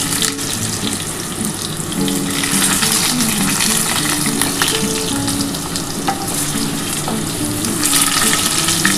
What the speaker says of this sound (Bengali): আমার কিন্তু আলুটা ভাজা হয়ে গেছে